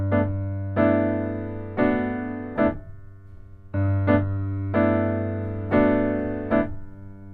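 Piano plays the melody of a song in rhythm, right-hand chords struck in short and held bursts over a sustained low G in the left hand, clear and close with no talking.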